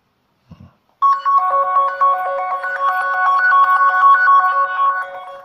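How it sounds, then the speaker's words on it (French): A brief tap, then a bright melodic ringtone from a Lenovo K3 Note phone plays loudly and steadily, repeating its tune. "Sonnerie."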